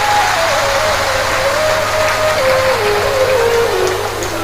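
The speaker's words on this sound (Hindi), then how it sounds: "यजमान परिवार के लिए जोरदार ताली बजाकर स्वागत वंदन अभिनंदन।" A large audience at a Shiv Mahapuran religious discourse claps loudly in welcome, a dense, sustained wash of applause throughout, with a faint steady tone underneath.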